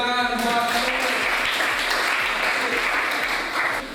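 A room full of people applauding loudly and steadily, dense overlapping claps that continue for several seconds without pause.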